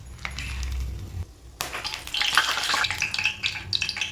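Whole spices, including green and black cardamom, cloves, cinnamon and bay leaves, hit hot mustard oil in a kadai and break into loud, close sizzling and crackling that continues after a brief lull.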